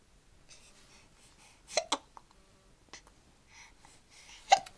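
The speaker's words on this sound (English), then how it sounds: "I must give you hiccups." Sharp, isolated hiccups from a small monkey, about three or four quick jerky catches spaced irregularly in near silence, with faint breathing between them.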